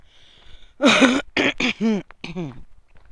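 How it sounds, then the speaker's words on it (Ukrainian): A person clears the throat and coughs several times in a short close burst, harsh rasping bursts separated by brief pauses, with faint breathing before. "цей кашель не дає жити"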